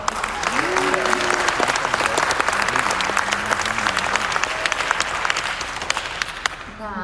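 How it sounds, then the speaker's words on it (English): A film festival audience applauds after a screening of short horror films, loud continuous clapping with a few whoops and murmured voices near the start, tapering off in the final second. "One more hand of applause for those."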